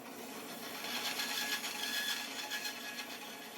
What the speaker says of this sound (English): I'm going to cut off a short piece of this